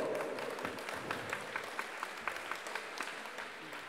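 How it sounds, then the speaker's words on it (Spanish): An audience claps at a basketball award ceremony during a town fiesta, sustained moderate applause with scattered individual claps, fairly distant and fairly quiet. "Que se escuchen esos aplausos,"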